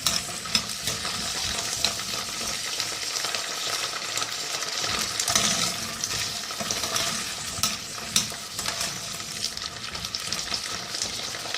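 Green fava beans sautéing in a pan give a loud, close, continuous crackle of frying oil with soft scraping from stirring, holding steady throughout.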